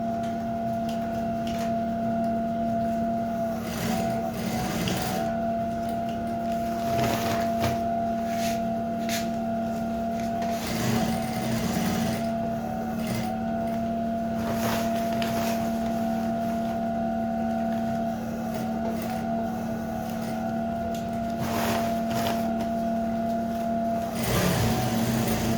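Sewing machine stitching a native trouser, a steady mechanical drone with a constant motor hum running unbroken throughout, fairly close and even in level, no talking.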